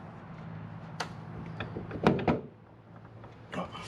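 A jet pump slides out of a jet ski hull, heard as a few faint scraping and clunking knocks, with one louder sliding clatter in the middle and a final scrape.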